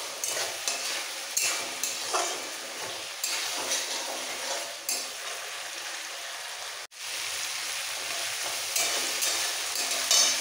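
Fried potatoes and pointed gourd sauté together in a pan, giving a steady close sizzle broken by regular scraping stir strokes, with a brief dropout near the end and no talk.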